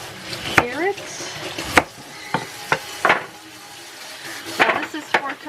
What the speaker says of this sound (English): We're just going to cut up our